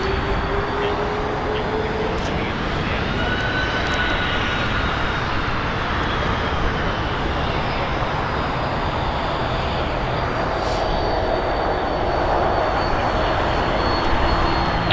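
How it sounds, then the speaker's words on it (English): A five-year-old Boeing 787-9 Dreamliner arriving from Tokyo Narita lands at LAX with a loud, sustained jet roar and rushing broadband noise that fills the whole stretch. "Landing north is All Upon Airways Flight 6 coming in from Tokyo Narita"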